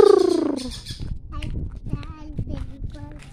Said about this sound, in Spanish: Periquitos, oigan los pericos.